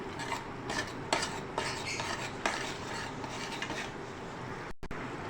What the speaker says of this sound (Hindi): दही को ऐड करने के बाद आप इसको मिक्स करें।